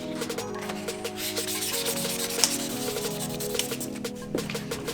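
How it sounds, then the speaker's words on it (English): Close, steady rubbing of lubricated wet sandpaper across a car headlight lens, a soft rasping scrub in quick strokes with light squeaks. "We'll go ahead and lubricate the sandpaper itself."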